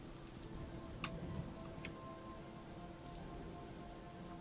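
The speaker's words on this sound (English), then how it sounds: "It has started raining, which is always nice." Soft, steady patter of rain in the video game Dwarf Fortress, with a few scattered drips and ticks standing out, quiet and continuous throughout.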